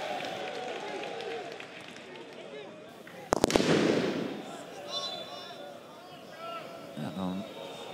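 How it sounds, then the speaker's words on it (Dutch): Fireworks thrown onto the pitch by supporters at a Dutch football match crack in a sharp burst of rapid bangs over a steady crowd roar, with a commentator talking throughout. "beetje vuurwerk op het veld gegooid door de supporters van Helmond"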